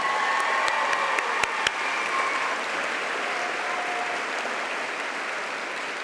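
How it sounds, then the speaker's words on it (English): A crowd at a school convocation gives an honoree steady, even applause that fills the hall without pause, with a few sharp individual claps standing out early on. "please congratulate them with your applause"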